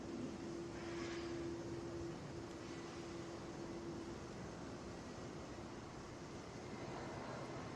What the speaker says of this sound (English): Flight 1771 coming in from Toronto, A320.